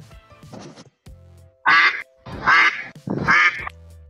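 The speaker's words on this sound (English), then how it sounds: "Duck." A duck quacking: one softer call, then three loud, close, nasal quacks in quick succession, separated by short pauses.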